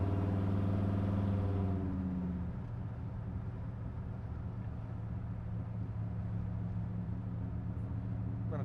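1968 Chevrolet Camaro SS style car driving, heard from inside: the engine note climbs through a gear, drops at the shift, then holds a steady, moderately loud rumble with no talking over it.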